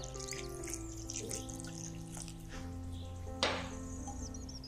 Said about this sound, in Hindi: थोड़ा ठंडा पानी डालेंगे इस पर।